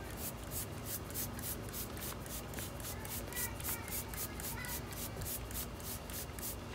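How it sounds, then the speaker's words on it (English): A pressure sprayer hisses in repeated bursts against a house wall, spraying bleach or hydrogen peroxide on mold, a quiet rhythmic spraying with faint rubbing sounds. "So let's go ahead and spray it some more"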